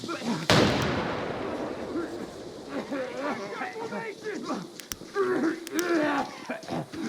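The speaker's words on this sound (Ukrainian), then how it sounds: "Я кину гранату вдалі, а ти пікнеш." A grenade goes off in the shooter game Arena Breakout Infinite: one sharp, loud blast early on, then scattered thuds and distant shots while voices talk over the action.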